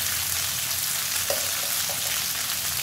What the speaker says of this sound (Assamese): এতিয়া ইয়াত দি দিম এই মাংসখিনি